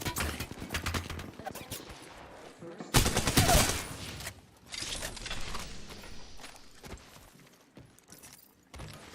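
Gunfire in the battle royale shooter Apex Legends, a dense volley of rapid shots followed by scattered bursts, with quiet gaps between them and a voice occasionally talking.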